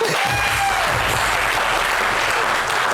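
Audience applause for a drum and dance group at a lively outdoor event, a dense, steady clapping that carries on for the whole stretch, close and loud.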